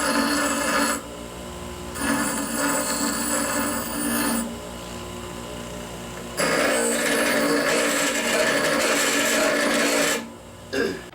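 Rasping, scraping strokes come from rust being ground off a Ford truck clutch pedal part. The bursts are loud and close, separated by short pauses.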